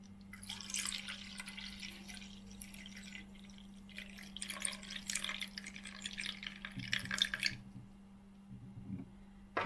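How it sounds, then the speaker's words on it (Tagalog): Water drained off a pot of boiled pork for crispy oven-roasted pork, dripping and splashing into a sink in uneven bursts over a steady low hum, fairly close with no talking. "So, tatanggalin natin yung tubig."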